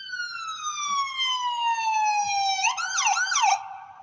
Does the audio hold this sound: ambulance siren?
yes